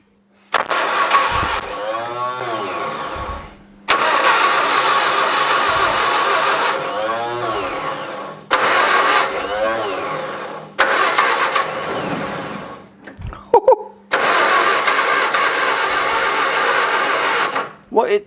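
An old Bedford CA van, unrun for around twenty years, cranks repeatedly in long loud bursts, catching and stumbling between attempts, with short pauses and brief talk in between.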